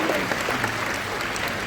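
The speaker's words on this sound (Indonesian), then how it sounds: "Tepuk tangan kepada beliau." An audience at a net zero summit claps in a dense, steady round of applause that fills the whole moment without pause.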